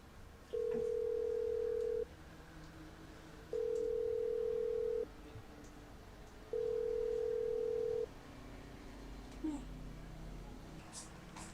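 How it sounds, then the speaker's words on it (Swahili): Telephone ringback tone heard while calling someone: three long steady beeps, evenly spaced with pauses between, clear and fairly close, with faint background sounds and a brief voice near the end. "Ngoja nijaribu kumpigia simu."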